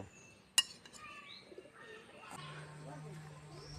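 Soft pigeon coos and a few chirps in a quiet space, with a sharp click early on and a steady low hum joining partway through.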